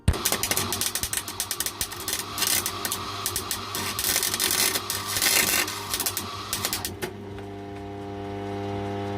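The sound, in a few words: welding with the heat set too high, blowing through metal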